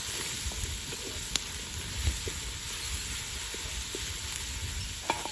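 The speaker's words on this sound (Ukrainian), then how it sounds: "М'ясо підсмажилось трохи" Pork frying in a pan as the base for plov, a steady close sizzle with a few soft clicks and scrapes, no talking.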